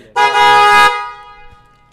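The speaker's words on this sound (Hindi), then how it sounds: "हॉर्न भी आपको मैं सुना देता हूँ प्रेशर हॉर्न है" One loud, blaring blast of a motorcycle pressure horn, close by, lasting under a second, then a fading ring into quiet.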